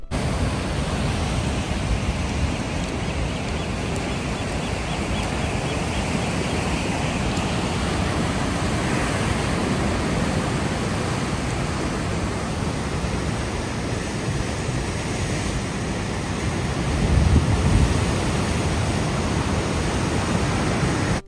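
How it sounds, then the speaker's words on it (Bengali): Rough Pacific Ocean surf on the coast near Ensenada, Mexico, roaring steadily and loudly as a dense, continuous wash of breaking waves, with a slight swell in intensity near the end and no voices. "সমুদ্র এখানে প্রচণ্ড উত্তাল,"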